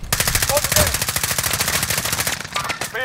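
Rapid automatic gunfire rattles in Call of Duty Warzone, a loud, fast, continuous burst of shots close by, briefly broken near the end as a voice shouts over it.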